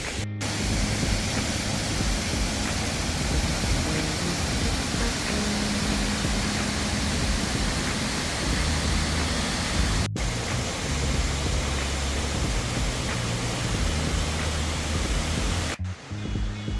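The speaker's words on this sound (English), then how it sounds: "waterfall looks good" A waterfall beside a mountain highway, Highway 276 in North Carolina, pours as a dense, unbroken roar that fills the scene at steady loudness, with no voices.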